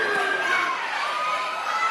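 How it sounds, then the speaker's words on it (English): An enthusiastic crowd at a wrestling event in Barnesville, Georgia makes a steady wash of cheering and shouting, with excited children's voices, for a couple of seconds. "Great enthusiastic crowd here in Barnesville, Georgia."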